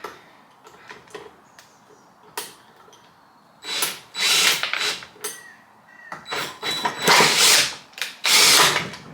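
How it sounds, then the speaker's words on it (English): A power drill spins up in repeated strained bursts, cranking a seized chainsaw engine with high compression that churns but doesn't catch, with scattered clicks and quiet gaps between attempts. "This drill might be too weak."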